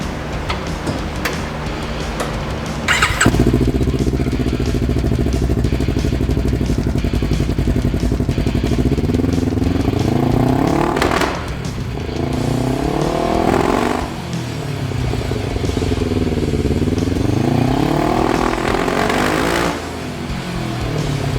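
A turbocharged Kawasaki KRX side-by-side engine cranks and fires up, then idles loudly with repeated revving swells, running rich, close by with no talk.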